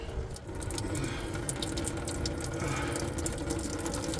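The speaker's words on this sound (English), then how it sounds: "it's draining down here, and it's splashing a bit" Coolant from a Silverado or Sierra 5.3L engine pours and splashes into a pan nearby in a continuous stream, a steady watery hiss with faint metallic rattles underneath.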